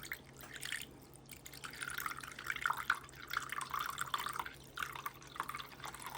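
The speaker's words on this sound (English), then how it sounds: "We're gonna add a little water." Water goes from a container into a baking pan over turkey wings and drumsticks, a faint, close, uneven trickle and splash that runs for several seconds.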